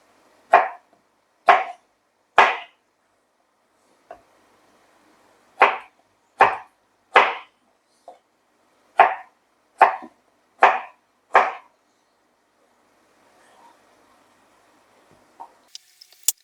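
Knife chopping carrot into small slices on a cutting board while making Finnish salmon soup, lohikeitto; about a dozen crisp, close, separate chops in small groups with short pauses, and no talking.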